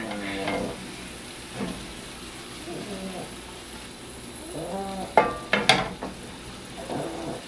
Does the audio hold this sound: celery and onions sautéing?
yes